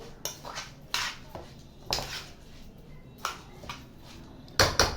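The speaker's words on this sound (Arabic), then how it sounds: "بدعك بقى الرز، اقلب كده" Rice grains mixed with cream are stirred in a metal cooking pot with a spoon, producing a few irregular scraping clinks and knocks against the pot, close and fairly clear with no talking.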